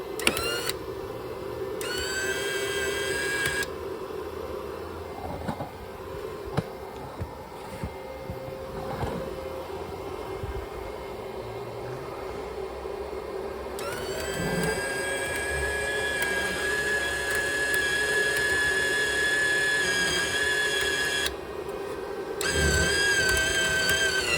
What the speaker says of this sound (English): I'll press my cold feed.